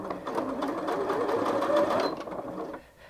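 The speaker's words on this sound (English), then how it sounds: "If I want to push that right up to the top, I can sew a lot faster." Janome 5270QDC sewing machine running at top speed, a fast continuous mechanical whirr with rapid needle clatter lasting about two and a half seconds before stopping, close and alone.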